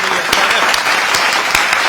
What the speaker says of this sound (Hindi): एक बार तालियां आप बजा दीजिए।